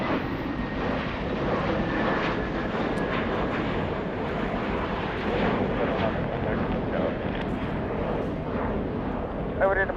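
A jet airliner takes off from a runway at Los Angeles airport, its engines giving a loud, steady, broad roar throughout, with faint radio talk over the top.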